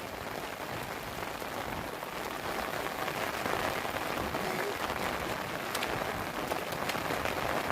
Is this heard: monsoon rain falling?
yes